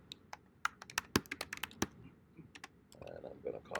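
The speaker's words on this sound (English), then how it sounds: "and then you can start typing a new name" Quick bursts of clicky keystrokes on a computer keyboard, close and crisp, come as a new file name is typed, with a voice murmuring near the end.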